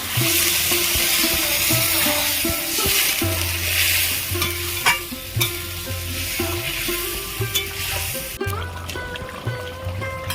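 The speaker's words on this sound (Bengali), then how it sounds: "আমি গ্রেভির মধ্যে আলু পটল ভালো করে কষিয়ে নিয়েছি এবার জল দিয়ে দেবো" Potato and pointed gourd simmer in a gravy as water goes in, with loud close sizzling and frying and repeated spoon scraping and stirring in a steady rhythm throughout.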